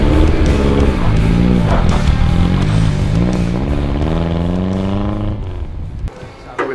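A Lotus Elan S engine revs loudly and close by, climbing and falling in pitch through several swells before it drops off sharply near the end.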